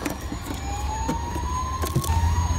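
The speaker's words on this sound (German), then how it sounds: "Krankenwagen ist angekommen." A Bruder toy ambulance siren wails in a rising tone under a continuous low rumble and scattered clicks, moderately loud throughout.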